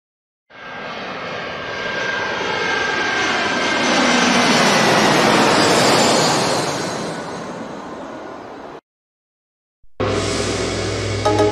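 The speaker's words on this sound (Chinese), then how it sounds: "我哋而家喺加兰波机场啦，要坐飞机啦。" Loud aircraft engine roar at an airport, building steadily and holding for about eight seconds before cutting off, then another engine-like noise resuming after a brief silence.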